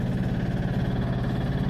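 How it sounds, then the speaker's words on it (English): Concrete mixer running at a building site, a steady low rumbling drone with a faint rhythmic churn, close and unbroken throughout. "excuse the noise of the mixer"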